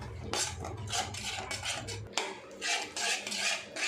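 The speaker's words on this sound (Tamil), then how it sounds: "லெமன் சைஸ் அளவுக்கு புளிக்கரசு அது இதில் செய்து நல்லா மிக்ஸ் பண்ணிக்கலாம்" A spoon stirs masala with tamarind extract in a pan for an okra curry, making scraping, rasping strokes against the metal that come in repeated bursts, close and moderately loud, with no voices.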